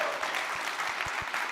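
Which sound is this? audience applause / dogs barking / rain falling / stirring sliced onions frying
audience applause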